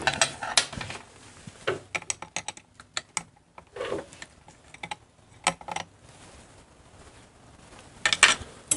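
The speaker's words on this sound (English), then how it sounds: "Okay, and then we'll tighten the lock nut." A lock nut is tightened on a Harley Shovelhead clutch, heard as scattered close metallic clicks, taps and short ratcheting bursts separated by quiet gaps, with faint handling noise.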